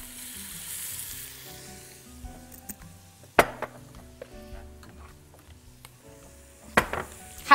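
Cumin seeds frying in a small spoonful of corn oil, a soft, steady sizzle broken by scraping stirs and a couple of sharp spoon knocks against the pan, close and quiet with no talking.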